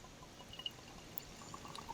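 Glenlivet whisky poured from the bottle into a glass, a quiet, soft trickle with faint splashes and small clinks, heard close up in an otherwise hushed room.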